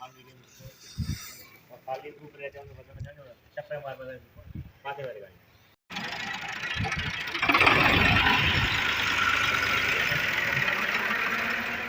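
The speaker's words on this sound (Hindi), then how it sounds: "ट्रैक्टर सर्विस होने जा रहा है" People talk briefly in a village, then a tractor engine starts up and idles with a steady, close rumble.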